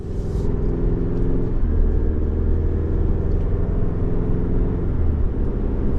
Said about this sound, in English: we are driving this 24 GMC Canyon AT4 midsize pickup